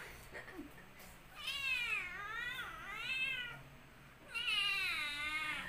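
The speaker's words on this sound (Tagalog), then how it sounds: "Meow, meow daw." A Khao Manee cat named Amaya meows repeatedly and loudly at close range, drawn-out wavering cries in three bursts with short pauses, while quiet indoor background noise sits underneath.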